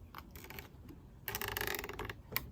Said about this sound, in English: tighten the zip tie